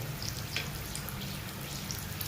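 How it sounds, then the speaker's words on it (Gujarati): Samosas deep-frying in a pan of hot oil give a steady, close crackling sizzle with scattered popping bubbles, continuous and unbroken, with no voices over it. "સમોસાને પકવવાના આપણે"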